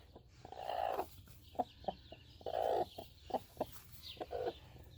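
A Copper Maran hen clucking softly, a series of short clucks and a few longer drawn-out calls, fairly quiet and close, with no talking.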